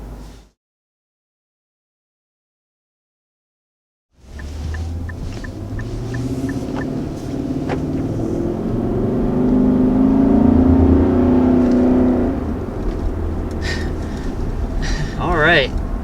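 A 2020 Infiniti QX80 Edition 30 driving on the road, its engine rumbling and rising in pitch as it accelerates after a brief silence, loud and steady inside the cabin, with some minor clicks.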